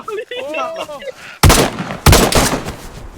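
Two loud, sharp gunshots in the DayZ video game crack out in quick succession, each followed by a rumbling decay, after a brief stretch of excited talk.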